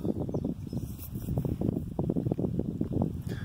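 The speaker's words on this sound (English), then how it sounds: "It's so windy up on this hill, it's going to blow me off of here." Strong wind buffets the microphone on a hilltop in Knox County, Ohio, in low, rumbling gusts, a steady blustery roar with no voices.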